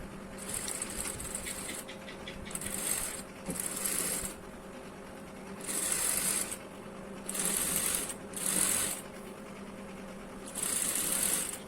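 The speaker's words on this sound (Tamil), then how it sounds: "மேலேயும் வந்து ஸ்டிச் போட்டு எடுத்துக்கோங்க இந்த ஏஜில்" A sewing machine stitches along the neckline edge of a blouse in about seven short, loud, rapid-fire runs separated by quiet pauses.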